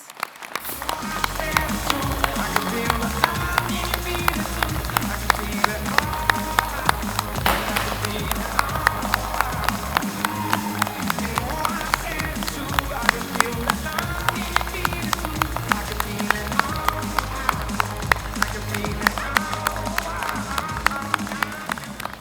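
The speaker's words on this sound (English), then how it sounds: "Everyone, please join me in a worthy round of applause." Dense, sustained applause from a large audience at a Massey University graduation ceremony in Manawatū, steady and loud throughout with a bed of music or crowd noise underneath.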